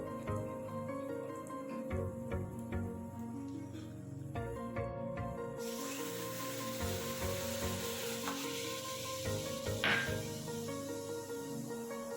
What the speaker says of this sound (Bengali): মশলাটাকে আমি ভালো করে কষিয়ে নিয়েছি। এবার আমি টক দই দিয়ে দেবো ফেটিয়ে রাখবো।